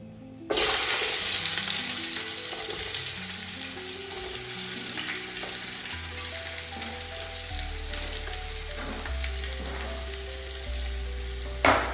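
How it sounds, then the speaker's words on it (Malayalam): Finely chopped onions tipped into a hot pan with cinnamon and oil for chicken majboos, bursting into a loud, steady sizzle that continues close by with occasional stirring and no talk. "നമുക്ക് ചെറുതായി അരിഞ്ഞ സവാള ഇതിലേക്ക് ഇട്ട് കൊടുക്കാം."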